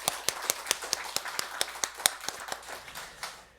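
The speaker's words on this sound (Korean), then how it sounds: "박수로 한번 우리 예수님께 한번 크게 영광을 돌렸으면 좋겠습니다." Congregation clapping at a Christmas Sunday church service, heard as a sparse, evenly paced run of separate sharp claps, fairly quiet and thinning toward the end.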